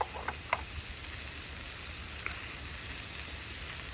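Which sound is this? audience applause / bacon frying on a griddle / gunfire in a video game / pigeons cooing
bacon frying on a griddle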